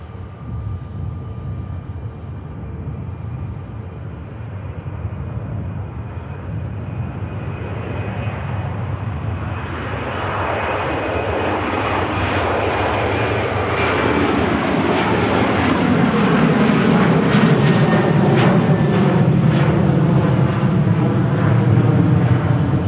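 Boeing 737 taking off from Manchester Airport for Marrakesh, engine whine building from a distant hum into a loud, rising roar that peaks near the end, no voices.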